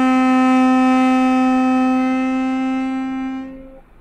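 One long, steady harmonica note, hole one blown, with a buzzy reed tone, held for several seconds and then cut off.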